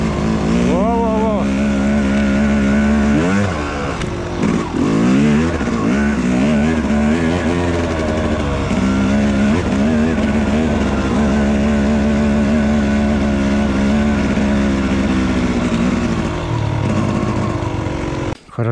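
An enduro motorcycle ridden in winter revs and labours loudly up close, its engine pitch rising and falling repeatedly throughout, with voices audible over it.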